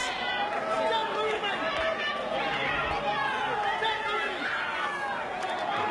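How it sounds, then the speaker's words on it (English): A boxing crowd on its feet at a Fiji bout, a dense, continuous roar of cheering and chatter that fills the space evenly from start to finish. "Yeah, the crowd is enjoying. They're on their feet."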